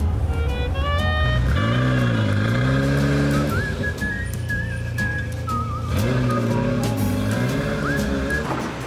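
Ferrari F40 supercar driven at low speed on a street, its engine rumbling near and loud with a turbo whistle and rising and falling revs as it pulls away and eases off.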